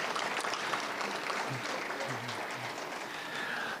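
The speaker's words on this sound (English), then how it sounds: "Let's give a round of applause again to Cree Voices in Leadership" Conference audience applauding the Cree Voices in Leadership group: a sustained, moderately loud patter of clapping from a room of people, with faint low murmurs under it.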